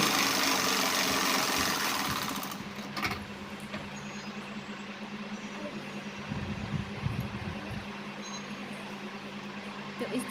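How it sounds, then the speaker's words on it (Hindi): A sewing machine runs a line of topstitching along a ladies' pant, its motor giving a steady close hum that is loudest at the start and then settles into a lower, even drone. "तो अब हमने इसमें एक सिलाई और ऊपर से लगा लेनी है।"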